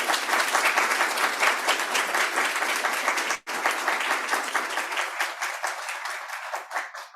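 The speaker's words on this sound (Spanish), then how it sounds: "Por favor, démosle un gran aplauso a Estel." Applause from an audience at a clinical simulation congress, sustained and even clapping from many hands that holds steady for several seconds before starting to thin.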